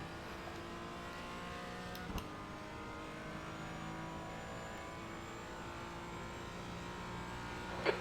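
A GT4 race car engine in the iRacing sim at Sebring drones steadily at a sustained pitch throughout, a continuous faint hum with no talk.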